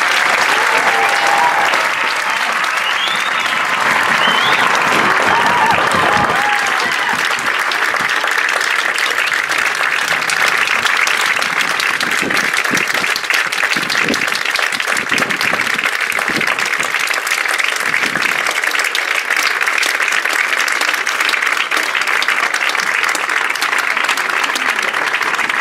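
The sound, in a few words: audience applauding the 2015 band seniors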